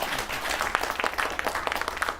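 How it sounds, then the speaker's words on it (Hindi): A studio audience at a Hindi New Year 2021 astrology show claps steadily for a couple of seconds, dense and close. "मैंने कहा नहीं था ये बजाने को ताली, आपने बजा दी"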